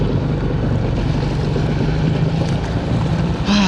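A Sea-Doo HX personal watercraft engine runs at a steady, loud drone with buffeting wind noise across the whole short stretch and no talking.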